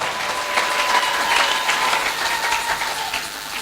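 A church congregation claps steadily during a Sunday service, a dense and sustained round of applause throughout.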